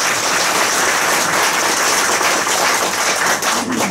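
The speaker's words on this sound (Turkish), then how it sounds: "basın mensuplarına kuvvetli bir alkış rica ediyorum" Steady, loud applause from an audience at a Turkish CHP party press statement, dense clapping filling the whole stretch without a break.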